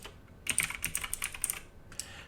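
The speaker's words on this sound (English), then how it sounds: "So that one you may have to just type in" Quick, light typing on a computer keyboard, a short cluster of crisp, fairly quiet key clicks lasting a couple of seconds, with no voices.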